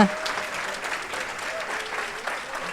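Warm applause from an audience, a steady patter of clapping hands that carries evenly throughout with a faint voice underneath.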